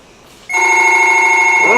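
An old-time radio drama telephone bell starts ringing abruptly partway in and keeps up a loud, steady, bright ring, with faint room sound before it.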